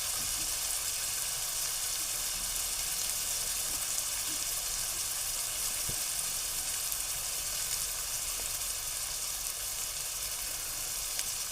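Chopped green chillies sizzling steadily in hot oil in a pan, a loud even hiss and crackle that stays constant throughout, with no voices.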